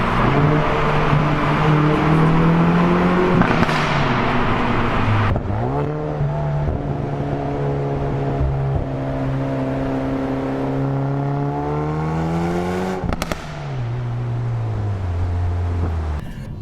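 A Hyundai i30N hot hatch engine revs in a tunnel and holds steady pitch, rising and falling in long sweeps, loud and echoing, with a brief drop mid-way.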